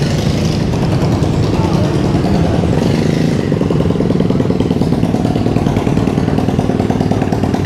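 A motorcycle engine at an Indonesian meat market buzzes steadily close by with a rough, raspy drone and clatter, mixed with market noise.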